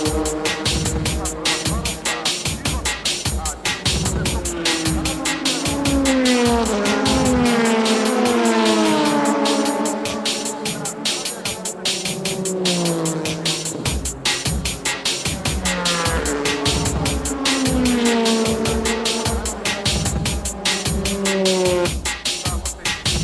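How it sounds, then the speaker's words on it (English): A first-place GT300 Ferrari race car pulls into the pit during a JGTC race, its engine pitch rising and falling over a rapid pulsing rattle, with other race cars roaring nearby. "The GT300 first place Ferrari comes into pit."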